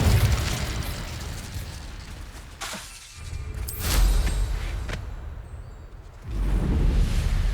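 The Incendio fire spell is cast in Hogwarts Legacy, producing loud roaring whooshes and bursts of flame, with a dip around three seconds and a fresh surge near the end, and no talk over it.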